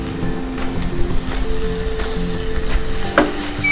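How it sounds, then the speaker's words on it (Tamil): Onions frying with salt in a pan for country-chicken biriyani, a close, steady sizzle and crackle with occasional stirring scrapes throughout. "ஆனியன் வந்து நல்ல ப்ரௌன் கலரில் வதங்கணும், ப்ரௌன் கலரில் நல்லா வதங்கணும்."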